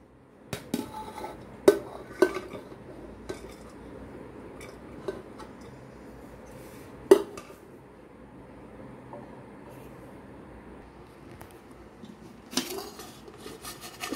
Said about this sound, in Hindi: सारी सब्जी मैंने कुकर में डाल दिया।